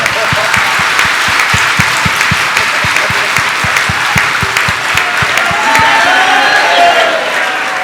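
Audience applause fills a hall at a spiritual discourse, a steady rhythmic clapping of many hands that stays loud and dense throughout, with a faint murmur of the crowd beneath.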